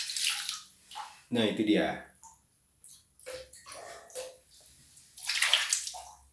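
Water is splashed in several bursts onto a bathroom floor being cleaned with oxalic acid, close wet sloshing and trickling between short stretches of quiet, with a person speaking briefly.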